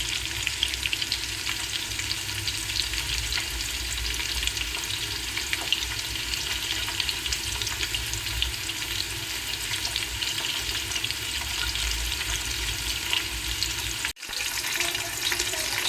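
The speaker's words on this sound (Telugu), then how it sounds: "బాగా వేగుతూ ఉన్నాయి" Onions, cloves, cardamom and bay leaf fry in plenty of peanut oil, a loud, dense and steady sizzle that runs continuously, with a brief dip near the end.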